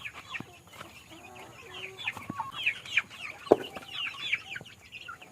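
Shamo and Oriental breed chickens cluck and chatter in short repeated calls, several birds close by, with a few sharp louder notes standing out and no talking.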